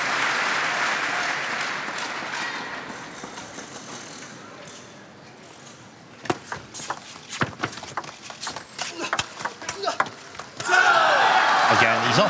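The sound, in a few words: table tennis crowd cheering and applauding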